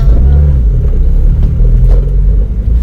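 A white Toyota AE92 GTi cruising along, its engine giving a steady low rumble with road noise that stays loud and continuous throughout, with no voices over it.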